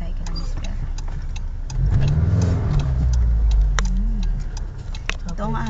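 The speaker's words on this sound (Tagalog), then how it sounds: "Ito ang aming bagong lumang kotse." Engine of an old car running on a highway, a steady low drone that swells slightly as it revs, with people talking over it inside the cabin and faint ticking.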